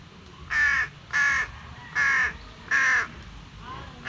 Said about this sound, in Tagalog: Aba, yung uwak sa amin eh.